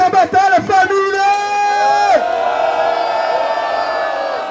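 Crowd at a rap battle at Roda Cultural da Rocinha cheering and whooping, a loud burst of shouts and cries that settles into sustained noisy roar, heard close.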